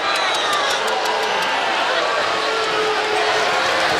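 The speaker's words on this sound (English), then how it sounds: "they get some hefty boos from this crowd" Volleyball arena crowd booing, a dense sustained roar of many voices filling the whole stretch at steady loudness.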